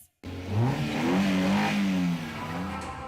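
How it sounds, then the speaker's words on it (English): A car engine fires up after a brief silence and revs in rising and falling pulls, fairly close and steady, with a rough idle carrying on afterward. "Gentlemen, start your engines."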